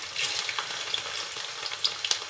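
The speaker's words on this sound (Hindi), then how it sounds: "इसको हल्का सा फ्राई करेंगे" Taro root (arbi) lightly frying in hot olive oil, a close crackling sizzle with scattered stirring clatters and pops across a couple of seconds, with no voices.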